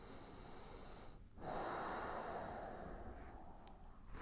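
Deep breathing during a yoga flow, a faint steady airy breath that swells into a longer, fuller inhale partway through, close and quiet with no talk.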